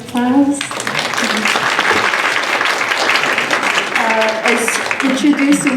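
Applause from an audience at a TOMODACHI Generation university event, steady and fairly loud for several seconds, with a voice speaking over it at the start and again near the end.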